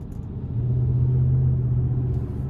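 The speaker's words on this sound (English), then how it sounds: "But love the exhaust sound," A deep, steady V8 exhaust rumble from a 2026 Ram 1500 Laramie pickup truck, droning evenly at a low pitch throughout with no voices.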